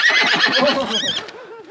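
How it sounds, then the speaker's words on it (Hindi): A horse neighs in a long, loud, wavering whinny near the listener during a mountain hike ride in Bagh, Kashmir, the call tailing off at the end. "घोड़ा सवारी कर रहे हैं।"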